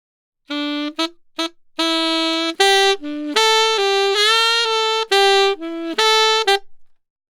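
A solo saxophone plays a short melodic phrase of distinct notes, some clipped short, with brief gaps between them, clear and close.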